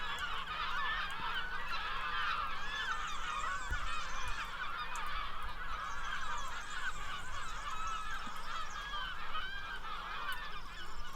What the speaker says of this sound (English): and yet we've got hundreds of seagulls